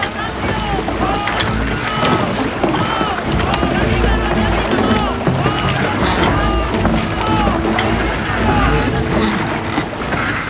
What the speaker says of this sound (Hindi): और तेज चलाओ पटवार।